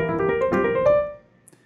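Jazz piano playing a short run of ascending pentatonic four-note cells, a quick cluster of notes that rings out and decays into near silence; moderately quiet, solo piano, no talking.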